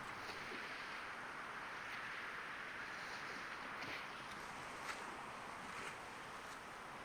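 Wind rushes steadily over choppy sea waves in the Sailwind sailing game, a constant broad hiss with faint splashes and no talking.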